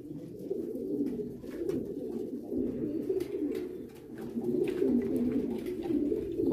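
A flock of meat pigeons on a squab farm in Egypt coos continuously, a soft, low, overlapping chorus of warbling calls with no talking.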